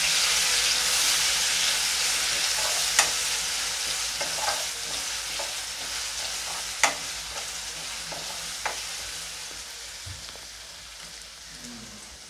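Thecha chilli paste sizzles and fries steadily in a pan, with a loud continuous hiss broken by a few sharp clinks and scrapes of stirring, no voices.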